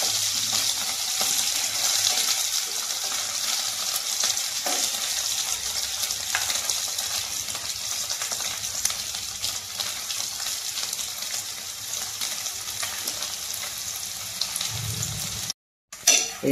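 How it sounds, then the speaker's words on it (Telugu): Dried prawns fry in a pan with a continuous, even sizzle that runs almost unbroken for the whole stretch and then cuts out briefly near the end, with no speech. "ఇది కొంచెం కలర్ వచ్చిన దాకా వేయించుకుందామండి రొయ్యలు."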